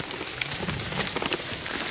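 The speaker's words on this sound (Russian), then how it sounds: "А дождь-то приличный пошел." Heavy rain pours steadily onto an autumn forest camp, a dense close hiss of drops pattering on surfaces with no voices over it.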